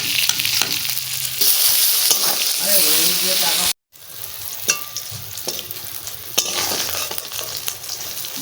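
Brinjal slices frying in hot oil in a pan with turmeric and salt, a steady close sizzle with stirring and scraping, briefly cut off before the crackle resumes.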